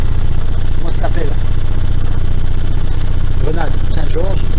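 A sailboat's engine idles in a steady, loud low throb while motorsailing with both sails out, someone speaking briefly over the drone.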